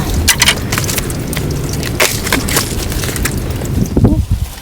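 Cold wind blows outdoors across a pepper seedling garden abroad, a loud continuous rush buffeting the microphone with gusty surges and scattered clattering bursts.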